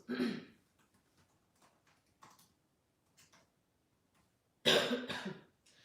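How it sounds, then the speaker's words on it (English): Two close, forceful coughs separated by a few seconds of near silence with faint small noises. "Just bear with me and the coughing because I will be coughing for a bit."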